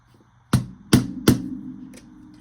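A small hammer strikes three sharp, evenly spaced taps at a craft room desk while marking a book rest, followed by a fainter fourth tap, close and otherwise quiet.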